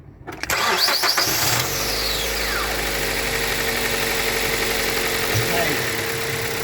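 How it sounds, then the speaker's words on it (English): A Mazda engine with an unstable bank 1 idle tumbler solenoid cranks briefly, catches and settles into a steady, even idle close by, with a voice heard faintly during the start. "Let's start the car up."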